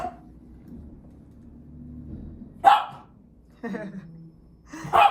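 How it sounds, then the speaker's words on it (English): A dog barks at the trash man from inside a home, giving a few sharp separate barks with quiet breathing and low rumbling between them, moderately close. "let me wait until he stops barking completely"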